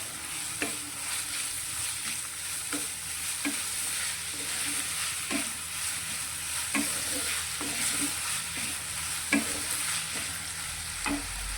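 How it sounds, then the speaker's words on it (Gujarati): Grated raw potato is stirred through hot oil tempering for a low-oil snack, with a steady close sizzle broken by regular scraping strokes of the spoon roughly every second. "અને સારી રીતે વઘારમાં મિક્સ કરીશું।"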